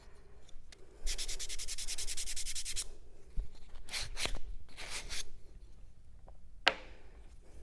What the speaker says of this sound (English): We want to sand this part down just a little bit in here.